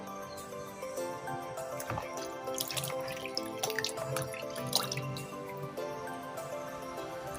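Shrimp rinsed under a running kitchen tap, a steady splashing and dripping water sound filling the whole stretch at close range, with no talking.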